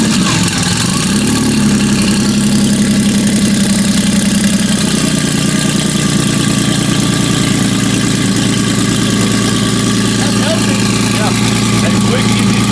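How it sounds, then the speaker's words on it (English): A car engine starts and settles into a steady idle, loud and close for the whole stretch, with a low rumble and an uneven revving burst near the start. "it's been a while since I heard this car"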